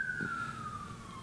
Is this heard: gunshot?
no